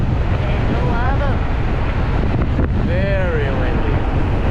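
Strong wind roars over the microphone during a fast ride on a Teverun Fighter Supreme Ultra 72V electric scooter at about 91 km/h, a loud unbroken rushing blast with brief voice fragments in it.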